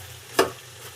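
Chicken pieces drop into oil with onions and garlic that have been frying, giving one sharp burst of sizzle that quickly settles back to a low, steady frying hiss.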